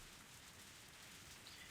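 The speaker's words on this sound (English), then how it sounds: "I heard the sound of rain pattering on the rooftop and the raindrops jumping into puddles." Rain patters steadily on a rooftop and drips into puddles in a visual novel game scene, a faint, continuous wash of hiss with no other sounds.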